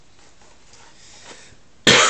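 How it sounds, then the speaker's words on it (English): After a near-silent stretch, one sudden, loud, close cough bursts out from a person with a recurring cough. "I'm going to be probably coughing through this video"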